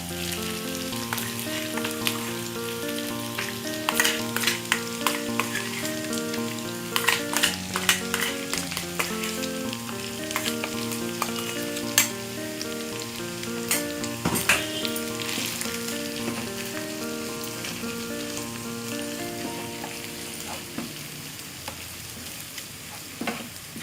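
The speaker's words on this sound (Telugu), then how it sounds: "ఆనియన్స్ ఇవి చిల్లీస్ ఇలా కొంచెం వేగిన తర్వాత మనం ఇలా పేస్ట్ తయారు చేసుకున్నాం కదండి ఆ పేస్ట్ వేసుకోవాలి" Onions and chillies fry in oil as a spice paste goes in: a continuous soft sizzle with scattered crackles and pops under a steady melodic background, close and moderately quiet.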